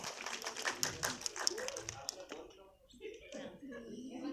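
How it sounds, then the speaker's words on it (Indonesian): Audience at an Indonesian film event for the horror film Iblis Dalam Darah claps as a guest arrives, a burst of scattered hand claps under a presenter's voice, fading after about two seconds. "Tepuk tangan dong, ini dia Dr. Ahmad"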